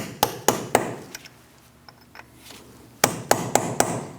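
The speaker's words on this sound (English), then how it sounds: "We're going to unpeen our axle nut" A hammer drives a punch against the front axle nut of a 2000-2006 Mini Cooper: three sharp metallic strikes, a pause with a few light taps, then four more ringing blows, close and loud.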